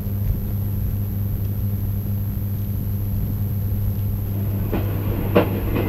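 A train passes in a scene from the Tamil comedy film Mahanadhi, a steady, loud, close rumble under a constant hum, with a few clattering clicks near the end.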